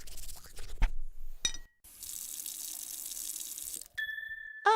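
Tap water runs into a bathroom sink while teeth are brushed, a steady hiss of flowing water broken by brief pauses, taps and squeaky handling sounds nearby.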